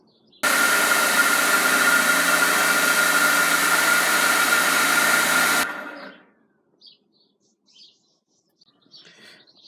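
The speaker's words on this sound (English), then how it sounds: "I'm going to pre-polish these just so that they're nice and shiny right off the bat" A power polishing machine buffs scrimshaw tool parts, including a chisel blade and bolster, in one loud, steady whirring drone that starts abruptly, runs about five seconds, then winds down and cuts out, leaving faint scattered noises.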